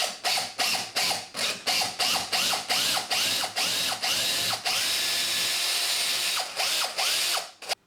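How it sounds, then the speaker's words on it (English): A drill bores through a door from its far side to meet a half-drilled hole for a bathroom indicator bolt, first in quick ratcheting pulses, then in a steadier continuous run before a few last short bursts, close and loud. "Then we're going to drill through from this side and the two holes will meet up."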